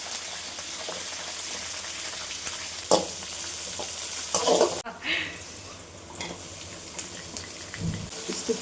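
Curry leaves fry in hot oil in a pan with a loud, steady sizzle. Sharp crackling bursts and stirring clatter break in now and then.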